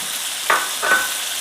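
Cauliflower, potatoes and carrots frying in a pan, with a constant hiss and two brief stirring scrapes.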